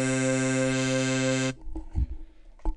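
A synth lead built on FL Studio's 3xOsc holds one steady, bright, buzzy note for about a second and a half, then stops, leaving faint rustles and a few soft knocks.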